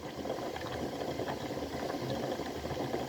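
Water bubbles at a steady, continuous boil in a covered pot of apple compote, a dense low rumbling churn close by with no pauses.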